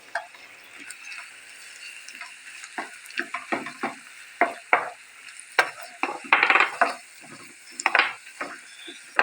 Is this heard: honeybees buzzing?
no